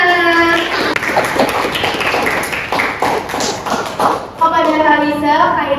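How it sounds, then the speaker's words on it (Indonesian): Children in a classroom clap together in a brisk burst of rapid hand claps, with voices heard at the start and end. "Kita beri tepuk tangan anak-anak."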